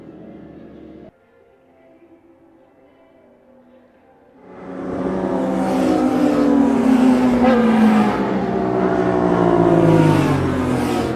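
Motorbikes on the Wanneroo Raceway track during a track day, engines swelling from quiet to a loud, sustained revving roar as bikes accelerate past nearby.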